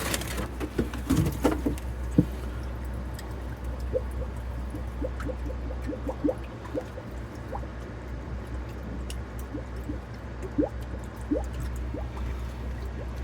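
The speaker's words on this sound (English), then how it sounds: "There is an air pump. It's being bubbled right there." An air pump bubbles dechlorinated tap water in a jug, producing soft, irregular bubbling pops and drips over a low steady hum, close and fairly quiet with no speech.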